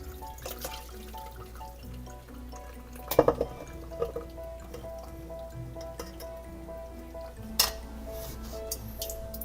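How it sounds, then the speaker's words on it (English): Beef bourguignon stew being strained in a home kitchen: soft trickling liquid with scattered metallic clinks of pots and utensils, a couple of sharper knocks standing out over a quiet background. "we're going to strain all the stew"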